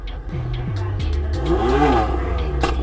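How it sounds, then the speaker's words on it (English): A BMW M4 drag car engine revs up and down repeatedly, roaring loudly nearby with rising and falling pitch, ending in a few sharp pops. "Sounds like it's roaring when it revs up like that."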